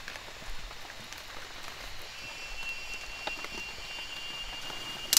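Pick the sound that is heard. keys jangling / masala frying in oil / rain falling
rain falling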